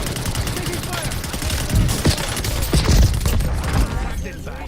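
Gunfire erupts during a police vehicle pursuit, a loud close burst of several rapid cracks and thumps over rumbling engine and road noise, with shouting voices mixed in.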